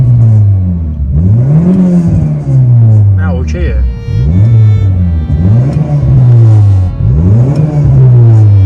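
A car engine revs repeatedly in close, loud sweeps, rising and falling in pitch, while being tested for backfire and hard cut-off, with a few sharp pops between revs and people talking over it.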